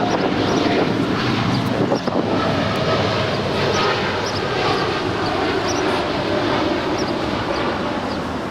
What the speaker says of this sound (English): It's a 3-year-old 787-9 Dreamliner.